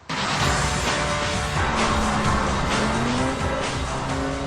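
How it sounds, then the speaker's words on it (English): A BMW 335i engine roars loudly and steadily, its pitch climbing slightly toward the end. "I love the sound of its Super Trick engine."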